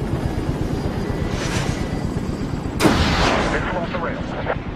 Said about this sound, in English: Missile off the rail.